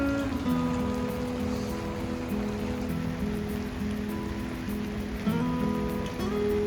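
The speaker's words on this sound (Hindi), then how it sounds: "आप लोग देख सकते हैं बारिश हो रही है।" Rain falling in snowy mountains, a steady close patter on surfaces filling the whole stretch, with a low engine-like hum running underneath.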